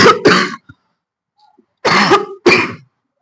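Someone nearby with an allergy gives a few harsh coughs and throat clears in two bursts, separated by a quiet gap.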